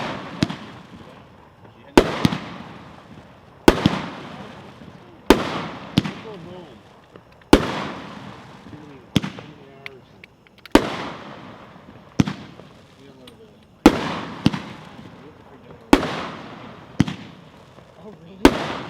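A 23-shot barn party fireworks cake fires a steady series of sharp bangs, about one every second or so, each followed by crackling and echo, loud and near, with voices of spectators faintly underneath.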